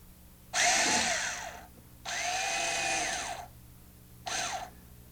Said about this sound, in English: I just fold the toggle bolt, push it through the ceiling, and then if you could give me the screwdriver